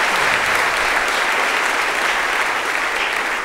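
Steady, dense applause from a gala audience greeting a children's and youth choir from Île-de-France, a loud continuous wash of clapping from a large crowd with no break.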